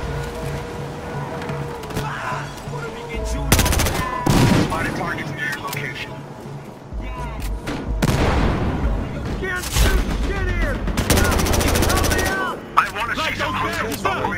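Automatic G18 pistol fire in Battlefield Hardline, loud rapid bursts and explosions mixed with game noise, while players talk over the action.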